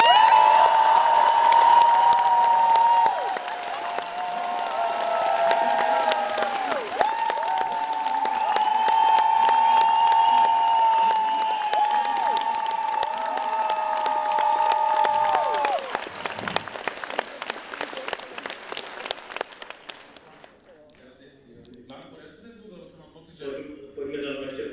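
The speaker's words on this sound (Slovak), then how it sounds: "fakt na úvod taký euforický potlesk a radosť" Euphoric applause from a live improv comedy show audience at Partička, dense clapping mixed with scattered cheers, with a sustained musical tone underneath; it thins out and fades near the end as a voice starts talking.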